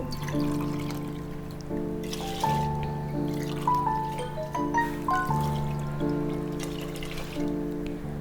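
Water is poured steadily into a cooking pot while making venpongal, a rice and lentil dish, a soft continuous pouring under louder melodic background music.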